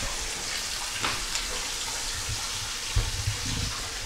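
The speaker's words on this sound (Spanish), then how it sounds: "Sale el agua caliente." Hot water running from an old tap in a former luxury spa, a steady soft splashing flow with a few small knocks, fairly quiet and without talk.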